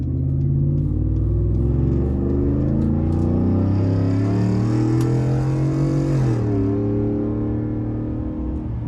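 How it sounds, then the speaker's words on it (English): A 2020 RAM truck engine held at about quarter throttle while driving in Mexico, a loud, steady low rumble with rising and shifting engine tones and a brief change in pitch near the end. "That would be about quarter throttle."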